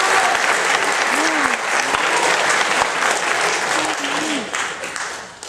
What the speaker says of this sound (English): I want to give another round of applause once again to our parents